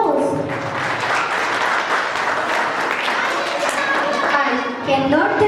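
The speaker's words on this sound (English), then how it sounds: "Let us give them a round of applause." Audience applause at a school annual day event at Rosary School, a dense, continuous clapping from a large crowd that carries on under a speaking voice and crowd chatter.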